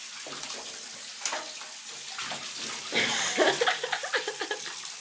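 Water runs steadily into a bathtub, a constant rushing fill that swells louder toward the end, with faint laughter and movement nearby.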